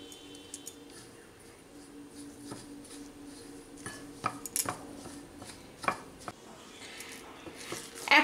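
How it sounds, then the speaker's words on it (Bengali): Spoon stirring semolina with sour yogurt in a bowl for rava pak, giving soft irregular scraping and tapping clicks that get louder toward the end, with no talking. "এখন সব উপকরণ ভালো করে মিশিয়ে নিচ্ছি"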